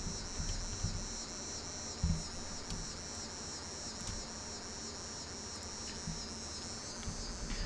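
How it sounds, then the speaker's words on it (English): A steady, shrill insect drone, like a cicada buzzing, holds at an even pitch throughout over faint outdoor background noise. "That is definitely a cicada."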